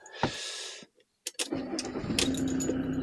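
A 20-year-old Hymer motorhome engine cranks and catches almost instantly, the starter whir giving way to a steady, close idle rumble after a short pause.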